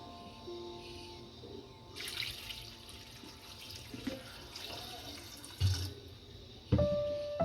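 Tap water runs and splashes into a cooking pot for boiling soaked chickpeas in a home kitchen, a soft steady trickle with a few louder clunks of the pot near the end.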